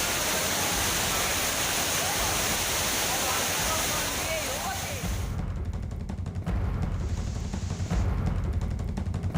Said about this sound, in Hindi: ऐसा लग रहा है कोई झरना बह रहा हो, लेकिन ये झरना नहीं है, धाम में पानी गया